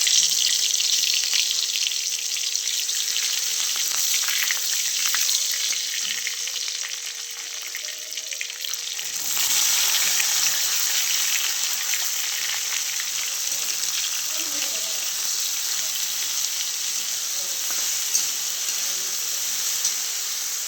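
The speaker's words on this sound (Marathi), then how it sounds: "तेल ठेवले गरम व्हायला तेलामध्ये थोडीशी मोहरी जिरी लसूण" Mustard seeds, cumin and garlic frying in hot oil for an okra dish, a continuous loud hiss and crackle that dips briefly midway, then sizzles on steadily to the end.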